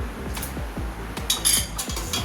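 A spoon stirs custard in a pot with quick, rhythmic scraping strokes, about ten close taps and scrapes against the metal in a couple of seconds.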